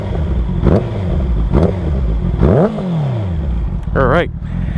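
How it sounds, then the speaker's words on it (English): A 2021 Honda CBR650R motorcycle engine idles and revs in bursts, rising and falling in pitch, loud and close, with a brief voice near the end. "Let's hear that engine."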